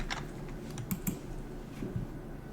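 Quick clacking keystrokes on a computer keyboard, a handful of close, crisp taps in an irregular rhythm over a quiet background.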